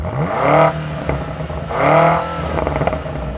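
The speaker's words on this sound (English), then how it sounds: "So let's talk about this exhaust. It sounds really good." A 2022 BMW M5 CS heard from outside the car, its exhaust giving two smooth rising revs with a short pause between them, followed by a brief lighter clatter as the revs settle.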